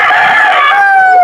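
An 18-month-old rooster crows once, close and loud, its call drawn out and falling slightly in pitch.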